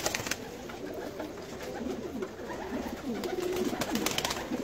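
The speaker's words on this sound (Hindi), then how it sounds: "बहुत ही जबरदस्त और मजबूत कबूतर है" Jugnu breed pigeons coo softly in a loft in Lahore, a low continuous murmur of repeated coos with a faint background hiss.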